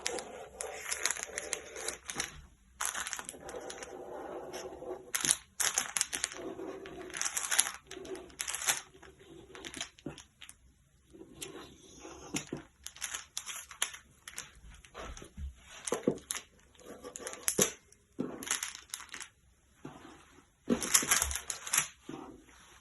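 Scissors snip and crunch through slipper fabric close up, in a run of irregular cuts with short pauses between bursts, no voices.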